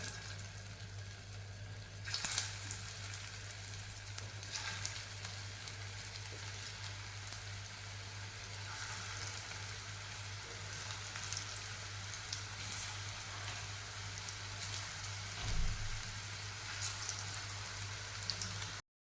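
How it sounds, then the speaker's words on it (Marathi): Poha and besan tikkis fry in hot oil in a kadhai with a faint, steady sizzle and occasional soft clicks, quiet and continuous. "आता ह्या टिकीज आपण तेलामध्ये सोडूयात"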